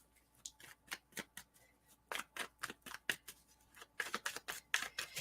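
Tarot cards flipped and leafed through by hand, a quick series of crisp papery snaps and slides, close and fairly loud, coming in irregular bursts with no talk.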